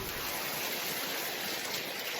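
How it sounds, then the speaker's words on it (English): Steady rain falls outdoors during an afternoon birding sit, a dense, even hiss of drops filling the whole clip without a break, soft and continuous with no voices. "it's raining pretty steady"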